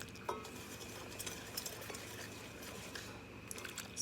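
Sugar and cacao powder being stirred together in a pan for a German apple-carrot cake, giving a soft continuous scraping and stirring with faint utensil taps, close and steady with no talk.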